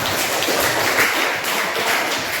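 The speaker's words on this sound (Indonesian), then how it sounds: "tepuk tangan untuk Dera" A classroom of students applauding a classmate, a dense continuous patter of many hands clapping at once, steady and fairly loud for a couple of seconds.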